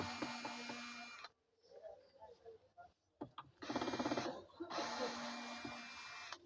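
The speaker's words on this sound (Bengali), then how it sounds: "পিছনের সাইডটা আমি নাট খুলে নিলাম" Nuts being undone on the back of a second-hand APC 1100 VA computer UPS, heard as loud, close mechanical whirring bursts separated by quieter clicks and handling noise.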